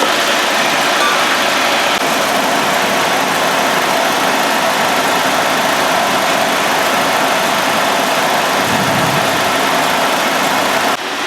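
A 16-year-old Pontiac Solstice GXP Turbo sits idling in a loud, steady, broadband rumble that holds level nearly throughout, close to the microphone, with an air-conditioning recharge underway.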